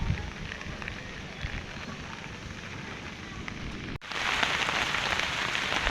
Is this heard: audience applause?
no